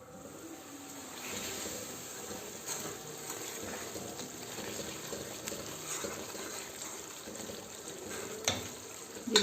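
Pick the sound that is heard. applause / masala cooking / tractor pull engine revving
masala cooking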